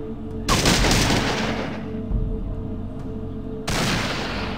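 Bursts of gunfire in the video game Fallout 2, loud and close, with two sustained dense volleys separated by a quieter stretch, no talking.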